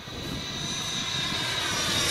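A Freewing F-5 RC model jet flies overhead, its steady electric ducted-fan whine and rushing roar holding loud and continuous, slowly swelling as it passes near.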